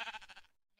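Sheep in a modded video game giving a single short bleat, loud and close, cut off abruptly.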